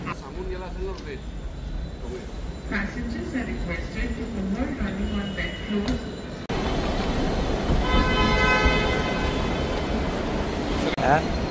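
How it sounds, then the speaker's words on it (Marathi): Mumbai metro ride from Ghatkopar toward Airport Road: a steady rumbling carriage drone that grows louder halfway through, with a brief tonal beep or chime, while someone talks over the first part. "आता आपण घाटकोपर या ठिकाणी मेट्रोमध्ये आलेलो आहोत"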